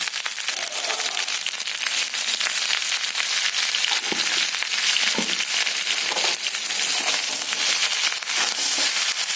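Mixed vegetables sizzling in a pan with turmeric added, a constant close frying hiss broken by a few sharper pops and scraping stirs, with no talking.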